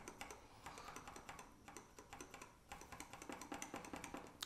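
Rapid, continuous Cherry MX Silver linear keyboard switch presses with a soft, muted clatter, fairly faint and steady throughout.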